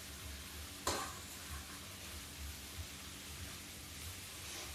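Methi rice pulao is scooped out of a pan, with one sharp scraping stir near the start, then a faint sizzle and soft stirring from the hot pan, quiet and close, with no talk.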